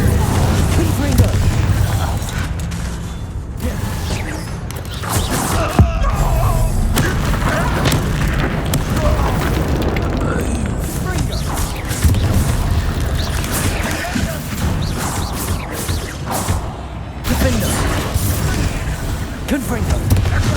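Repeated Confringo blasting spells in Hogwarts Legacy, booming explosive impacts and crashes rolling through a continuous dense stretch of combat noise, with shouted spell names and voices over the top.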